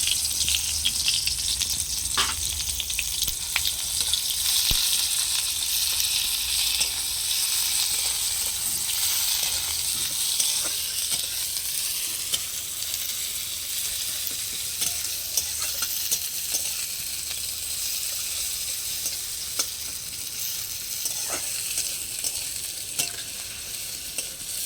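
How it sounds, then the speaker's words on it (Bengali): Sliced onions sizzle and fry steadily in hot oil in a wok, a continuous close, loud hiss with occasional stirring clinks and scrapes, with no talking. "এবার ওই তেলের মধ্যেই আমি পেঁয়াজ দিয়ে দিলাম।"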